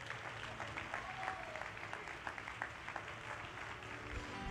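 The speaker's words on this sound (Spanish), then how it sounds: "Si ese es usted, denle un aplauso al que vive." A church congregation at a Spanish-language service applauds with steady, dense clapping throughout, moderately distant and crowd-like.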